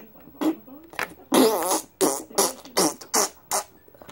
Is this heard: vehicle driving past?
no